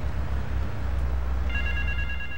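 A telephone rings in Grand Theft Auto III, its ring tones starting partway through over a steady low game ambience and continuing to the end.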